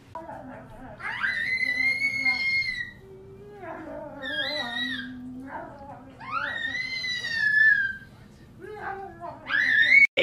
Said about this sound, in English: He started screeching really, really loud when he's happy.